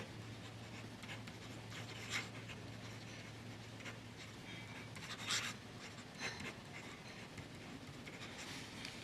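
Pineider fountain pen nib scratching across paper while testing Visconti Blue ink, a soft continuous rasp with a few sharper strokes, close and quiet, with a steady low hum underneath.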